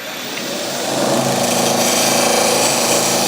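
A skew chisel, ground to work as a scraper, cutting wood with a harsh, continuous scraping whine that swells after about a second and then holds loud and steady, with no talk.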